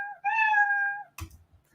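A single clear cat meow, drawn out and tonal, followed by a brief soft rustle.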